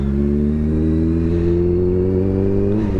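A Kawasaki Ninja H2 motorcycle engine revs loudly and steadily, a strong harmonic drone held high before dropping off at the end.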